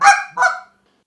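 A short reed honker goose call imitates Canada geese with two quick honks, the first higher and the second dropping lower, loud and close, then silence.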